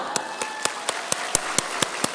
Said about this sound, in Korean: 대단하십니다. 박수.